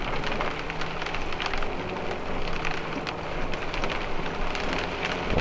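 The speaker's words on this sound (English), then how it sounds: "The rain's picking up." Rain beats on a moving motorhome, a loud unbroken hiss of drops over a low road rumble, with sharper splashes scattered throughout and no speech.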